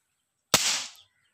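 Homemade Diwali toy gun firing, one sharp loud bang with a short noisy tail, alone in silence.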